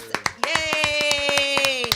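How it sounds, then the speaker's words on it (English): A live studio audience claps at the close of a city talk show: quick, steady rhythmic hand claps up close, with cheering voices and a sustained tone underneath. "Clap it up one more time for Taylor Chin."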